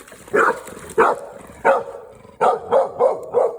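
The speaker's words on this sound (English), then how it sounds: "Stop the barking" A dog barks sharply about seven times in uneven bursts, loud and close, with short gaps between the barks.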